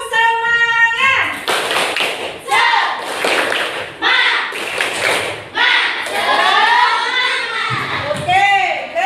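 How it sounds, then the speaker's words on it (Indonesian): A school class of children performs a rhythmic spirit clap, sharp group claps in a patterned beat broken by short bursts of chanting and a teacher's voice between them. "Tepuk semangat."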